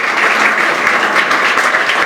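An audience claps steadily and densely, filling the room with loud, even applause that carries on without a break.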